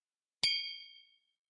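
A single bright ring from a glass of Blanton's single barrel bourbon being clinked, one sharp strike that hangs and decays slowly in an otherwise quiet room.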